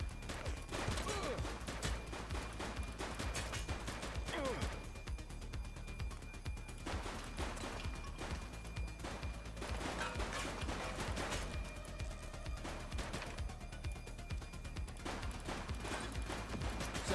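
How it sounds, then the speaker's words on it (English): A police shootout in The Precinct fills the scene with rapid, repeated gunfire bursts. The shots come in clustered volleys across the whole stretch at moderate loudness. "He's shooting!"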